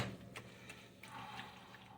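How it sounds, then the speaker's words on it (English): Water is poured into a pan with tomato paste while making Sicilian cauliflower pasta, giving a faint trickling and sizzling splash that is quiet and close, with no one talking. "A little bit of water in there with this tomato paste"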